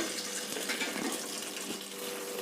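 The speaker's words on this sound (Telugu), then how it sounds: "ఇవైతే ఎక్కువ వాటర్ వేసి 2-3 సార్లు శుభ్రంగా కడగాలి" Dried fish being washed with plenty of water, a steady close splashing and running-water wash that continues throughout at an even level.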